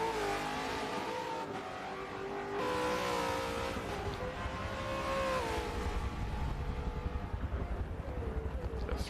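A 600-horsepower Supercars race car of about a ton and a half brakes and then accelerates hard at Bathurst, its engine note dropping and then rising through gears in a loud, rasping roar that grows closer, heard alone.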